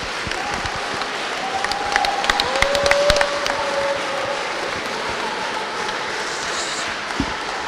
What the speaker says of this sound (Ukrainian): На вокзалі прикордонників проводжають до автобусів оваціями.